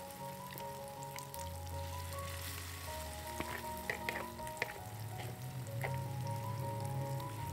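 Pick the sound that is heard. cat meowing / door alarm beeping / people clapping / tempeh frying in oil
tempeh frying in oil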